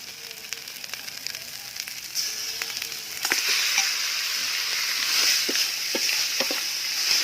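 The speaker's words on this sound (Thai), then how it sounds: "เอาหนูลงผัดทีกับเครื่องนะครับ เครืองหอมหนูลงครับผัดผัดให้หอมครับ" Field rat meat sizzles in a pan with curry paste while being stir-fried, a crackling fry that grows louder partway through, broken by sharp clicks and scrapes of the stirring utensil, close and continuous.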